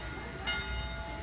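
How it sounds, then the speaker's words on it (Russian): Church bell ringing from a modern church near Punta Bravo, heard at a distance as a sustained metallic tone with harmonics beneath background murmur and street noise. "Вот это вот современная церковь там, она колоколит."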